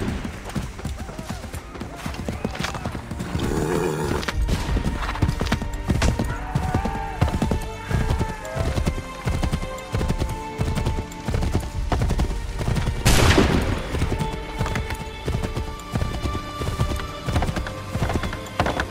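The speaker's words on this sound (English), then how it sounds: "Take that horse, Radon Hageron." Horse hooves clatter in a steady galloping rhythm through a busy Assassin's Creed III game scene, mixed with music, effects and occasional bursts of noise, loud and continuous throughout.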